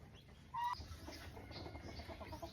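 A mother hen gives one sharp cluck, then low, soft farmyard rustling and faint muttering sounds follow nearby, with no voices.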